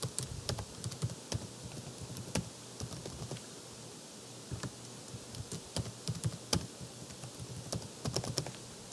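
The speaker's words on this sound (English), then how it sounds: "You type in your password." Typing a password on a computer keyboard produces quick, uneven clicks and taps that stay close and fairly quiet. Short pauses break up the bursts, and no voices are present.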